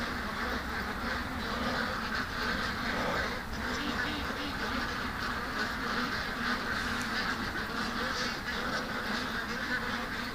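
Ducks in a pen at night quack steadily in a dense, continuous chorus, close and fairly loud, with someone speaking briefly over the flock.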